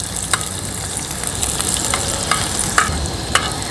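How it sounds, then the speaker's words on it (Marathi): Finely chopped onion tossed into hot oil for a Malvani-style tarli fish curry, giving a steady, close sizzle with scattered crackles and spatters throughout, no voices. "तेल पण छान गरम झालंय आहे हा बारीक चिरलेला कांदा आहे तो आपण तेलावर टाकूया आणि कांदा थोडा परतून घ्यायचा आहे"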